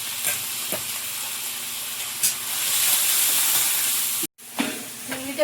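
Whole cumin seeds sizzle and crackle in hot oil in a home kitchen, a loud, steady frying hiss with a brief interruption near the end before the sizzle resumes.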